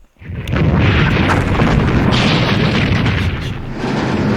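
Continuous rumbling explosion and battle din from the Operational Art of War IV wargame as engineers crush a tank destroyer unit, loud and sustained after a brief quiet start, with no talk.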